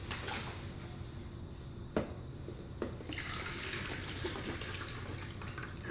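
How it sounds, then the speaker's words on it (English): Water gushes and splashes steadily as it is dumped out of a battery sprayer tank after a couple of knocks, fairly quiet and without talk. "and dump your water out."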